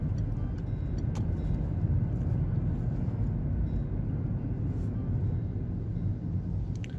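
A Citroën C4 drives along with a steady low engine and road rumble heard from inside the cabin, loud and continuous, with a few faint clicks and no talk.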